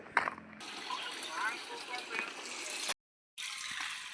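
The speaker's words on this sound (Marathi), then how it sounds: "मोटर चालू केली आहे झाडाला पाणी देऊन घेतो" Water from a motor pump gushes and splashes continuously at close range, watering trees, briefly cutting out near the end before resuming.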